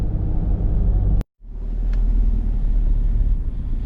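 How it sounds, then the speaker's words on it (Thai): A car drives along a road toward a tented campsite in Mae Wong National Park, a steady low engine and road rumble that cuts out briefly near the start before resuming at an even, close level. "โอเคเบาแจ็คขับรถต่อนะครับ"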